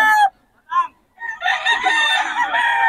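Roosters crow loudly amid other chickens at a busy fowl market in Bocaue: one short crow, a brief clucking burst, then a long, sustained cock-a-doodle-doo overlapping other birds, close and clear.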